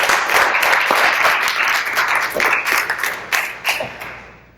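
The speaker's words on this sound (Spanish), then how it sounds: "Un aplauso." A church congregation breaks into applause after a prayer, a full, loud wash of many clapping hands that holds steady, then thins into scattered claps and fades out.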